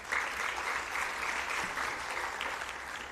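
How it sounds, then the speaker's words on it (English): An audience at a project completion celebration gives a round of applause, steady dense clapping at moderate distance lasting throughout, with no speech over it. "Let's give him a round of applause again."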